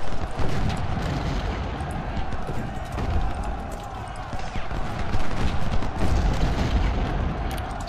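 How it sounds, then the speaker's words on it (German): An American Civil War battle in Ultimate General: Civil War, with an infantry volley and cannon: sustained rumbling gunfire and booming blasts mixed together, loud and dense throughout, under someone talking. "das waren unglücklicherweise ziemlich üble Schüsse"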